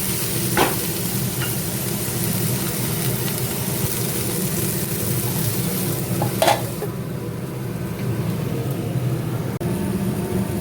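Spice paste for lote fish sizzles steadily as it is fried and stirred in a pan, a continuous close crackling hiss with a couple of brief scrapes and a low background hum throughout.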